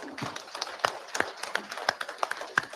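Scattered, uneven hand claps from a small crowd at a live drivers' meeting. Sharp claps stand out over a steady murmur, with some voices talking underneath.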